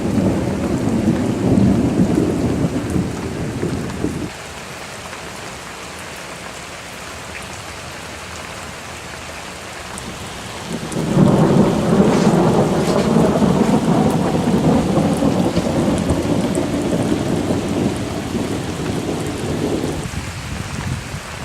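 Heavy rain pours steadily beside a carp-fishing lake in Hungary while thunder rumbles twice, each roll long and loud. The second roll is the stronger, with no voices.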